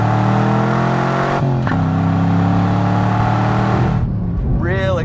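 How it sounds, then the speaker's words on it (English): A loud car engine with a Borla ATAK performance exhaust revs hard with a deep, aggressive exhaust note, climbing through the gears and dropping briefly between shifts. "As we shift through the gears, you can hear how it gives you a real aggressive note"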